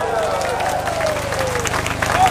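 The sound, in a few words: crowd applause at a rally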